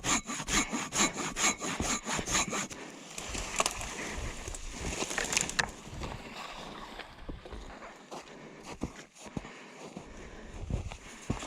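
A Silky handsaw cutting through wood on a forest trail near a small lake in Idaho, rapid rhythmic rasping strokes up close, then slower uneven strokes and pauses as the cut proceeds, with no talk.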